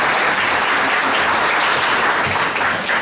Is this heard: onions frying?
no